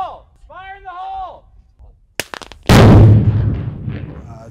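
A bomb disposal team's controlled explosive detonation at an airfield erupts in a huge, loud blast after several sharp pops, with a voice heard earlier before the boom and a long rumbling decay.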